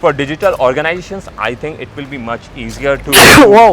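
A sharp, loud sneeze bursts out near the end, following steady conversational speech from someone talking about digital organizations.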